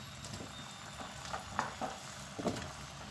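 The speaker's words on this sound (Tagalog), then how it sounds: "Kumukulo na siya." Coconut milk sauce for ginataang hipon with squash bubbles in a pot on the stove, a soft steady simmer with a few louder pops and stirring scrapes, no voices.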